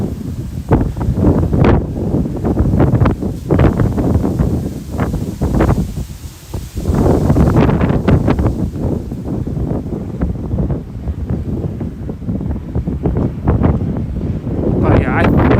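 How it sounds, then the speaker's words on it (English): Gusty winter wind at night in New York City blows hard against the microphone in loud, uneven bursts, with a brief lull partway through. "The wind is just annoying."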